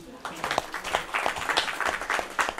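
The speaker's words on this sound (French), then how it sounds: "Mahmoud Traoré, voilà, il y a Tandina Touré, des hommes qui nous soutiennent, applaudissez-les." Audience applause at the launch of a Malian women's leadership movement, a steady wash of many hands clapping at moderate distance for a few seconds, with some voices mixed in.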